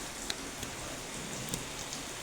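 Steady rain falls on a home's front yard, a soft, continuous hiss with a few faint drop ticks scattered through it and no voices.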